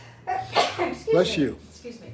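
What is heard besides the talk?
sneeze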